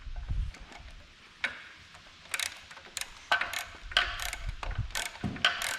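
A ratchet wrench drives a bolt into an engine in a family garage, producing short bursts of quiet clicking with pauses and small metallic knocks in between.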